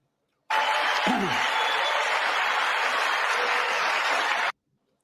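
Applause fills a chamber at the State of the Union, a steady, dense wash of clapping that holds evenly for about four seconds, then cuts off abruptly, with a brief low thump near the start.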